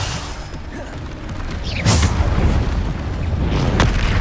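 Bombarda spell explosion in the Hogwarts Legacy video game, a booming blast that bursts out loud midway through a busy stream of combat noise, with another impact swelling near the end.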